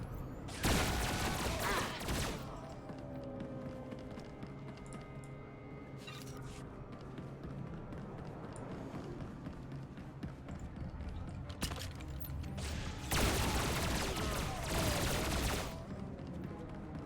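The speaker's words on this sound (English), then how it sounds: "So hopefully you don't get sick of sweeping gunfire" Sweeping blaster gunfire from the Star Wars: The Old Republic video game comes in dense bursts at the start and again near the end, loud and close, with quieter combat effects in between.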